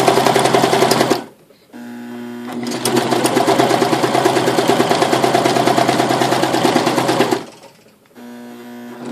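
A Brother 1034D serger runs steadily at speed while stitching through a scrap piece of fabric, a loud, dense mechanical whir with brief pauses before and after.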